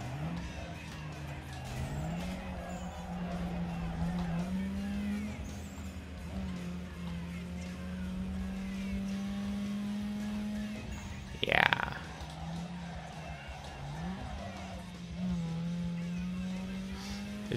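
Game cars race in Need For Speed Underground 2, with a steady engine drone that shifts pitch with gear changes and a sudden sharp burst midway, while someone talks over it.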